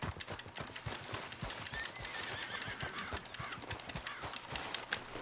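Horse in Red Dead Redemption 2 running with rapid clip-clop hoofbeats and a neigh, fairly loud and close with some birds in the background and no talk.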